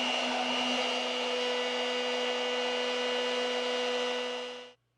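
A router cuts a mortise in a wooden leg, a loud, close, steady high whine with a strong hum that runs unbroken for almost five seconds before cutting off abruptly.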